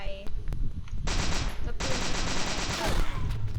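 Rapid automatic gunfire in the toy-themed shooter game Toy Wars, a loud close burst of fast repeated shots that rattles on for most of the short stretch, with a few separate cracks before it.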